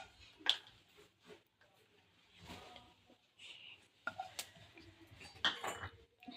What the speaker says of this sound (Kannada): ಇವಾಗ ಇದೇ ಪ್ಯಾನಿಗೆ ಶುಂಠಿ ಹಾಕೊತಾ ಇದ್ದೀವಿ.